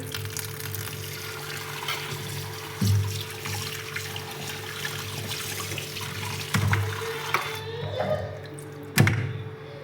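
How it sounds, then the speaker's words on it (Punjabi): Running water splashes and trickles steadily as boiled grated pumpkin is rinsed and cooled, with a few louder sloshes and clunks of handling at intervals. "ਹੁਣ ਅਸੀਂ ਇਹਨੂੰ ਪਾਣੀ ਦੇ ਵਿੱਚ ਵਾਸ਼ ਕਰ ਲਾਂਗੇ ਠੰਡਾ ਕਰ ਲਾਂਗੇ"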